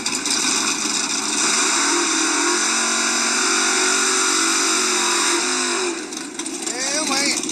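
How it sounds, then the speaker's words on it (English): A second-generation Pontiac Trans Am idles rowdily at a drag racing shootout, a loud, rough engine drone close by with people talking over it throughout. "This Trans Am sounds rowdy."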